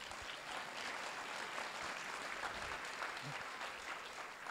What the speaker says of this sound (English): Y'all give them a big round of applause